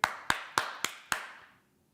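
Five sharp hand claps come at an even, quick rhythm, close and crisp. Each clap leaves a short ringing tail before the sound dies into silence.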